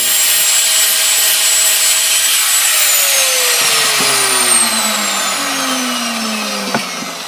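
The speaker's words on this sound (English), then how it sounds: "And once they're right, then I'm going to grind them." Nuts mounted on a shaft are ground for a coin tumbler project, giving a steady loud rasping whine with shifting pitch sweeps throughout, ending in a brief clunk near the close.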